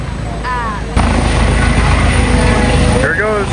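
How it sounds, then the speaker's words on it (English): A German Army helicopter lifts off at a German American festival on a U.S. Army post, its loud, steady rotor and engine roar filling the air after a brief quieter start, with people talking nearby. "Try to see the German Army helicopter take off"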